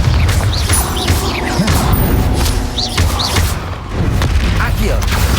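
Confringo fire blast spells exploding in Hogwarts Legacy, loud dense booms and crackling impacts over heavy combat noise, with a voice speaking over it.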